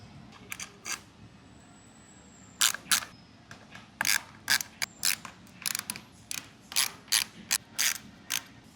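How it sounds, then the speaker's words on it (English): A ratchet tightens the bar end protector bolts on a Himalayan 452 motorcycle. Bursts of quick, close metallic clicking come in short rhythmic strokes with brief pauses between them. "your bar end protector like so. And then just tighten them up sequentially."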